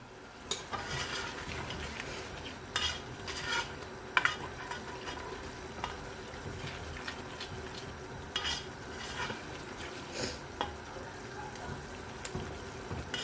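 Spices being stirred into a prawn karahi masala in a pan, soft frying hiss under intermittent scrapes and clinks of a spoon against the pan, with a faint voice now and then.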